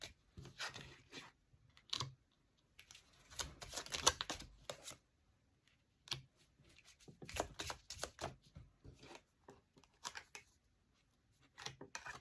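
Tarot cards being shuffled and laid out, with bursts of close, papery riffling and flicking that come in irregular clusters separated by brief pauses, soft overall.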